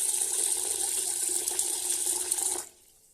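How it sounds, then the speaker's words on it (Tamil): Water runs steadily into washed white sorghum grains set to soak, a constant close splashing stream that stops abruptly near the end. "தண்ணி ஊற்றி ஊற வச்சுக்கலாம்"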